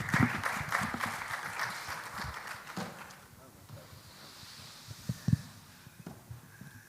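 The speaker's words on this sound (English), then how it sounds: "A round of applause," Brief audience applause at a gas distributors' business forum, moderate clapping for about three seconds that fades into quiet room noise with occasional knocks and faint talk.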